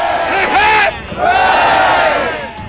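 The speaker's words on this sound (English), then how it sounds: "There was even 3 cheers." A large crowd in Brixton, London, raises loud cheers for the last Routemaster bus on route 159, with two big swelling shouts of many voices close by.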